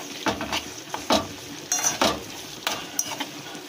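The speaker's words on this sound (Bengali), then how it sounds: "এবার পরিমাণ মতন অ্যালোভেরাটা দিয়ে দিতে হবে, দিয়ে ফেরও আর একবার নাড়িয়ে নিতে হবে ভালো করে" A spoon stirs an aloe vera hair mixture in a metal pot, with a series of close scrapes and light clinks at an uneven pace and no voices.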